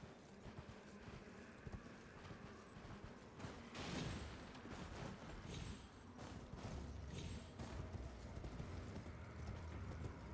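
Quiet, irregular clip-clop of a donkey's hooves on a hard surface in the video game Elden Ring, a steady trotting rhythm with faint mechanical creaks in the background.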